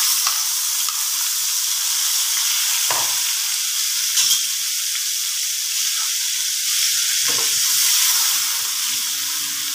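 Eggs frying in a pan for spicy egg sambal give a loud, steady sizzle and hiss throughout, broken by a few brief clinks and stirring scrapes, with no voices.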